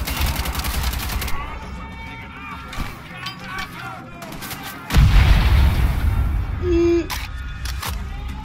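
Thrown grenade detonating in Wolfenstein: The Old Blood amid ongoing gunfire, a loud low burst midway through a busy battle mix, with someone talking throughout.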